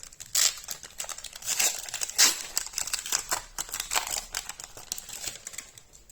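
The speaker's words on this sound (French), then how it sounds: "j'ai toujours du mal à ouvrir ces boosters." A Lorcana trading card booster pack wrapper is crinkled and torn open up close, with a steady run of crisp plastic rustling and sharp tearing bursts alone.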